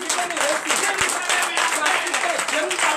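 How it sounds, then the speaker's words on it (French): Congregation at a morning prayer service clapping in acclamation, a continuous rhythmic clapping with voices and shouts mixed in throughout, fairly loud and close. "Donnez l'acclamation au Seigneur."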